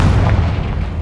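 A loud, deep boom from a Confringo explosive spell in Hogwarts Legacy rumbles heavily and holds its weight for about a second, dense and close with no voices over it.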